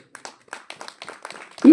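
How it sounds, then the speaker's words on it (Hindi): An audience breaks into scattered clapping that swells into brief applause, heard near and loud over a few seconds. "लेकिन एक बार ताली हो जाना चाहिए सर"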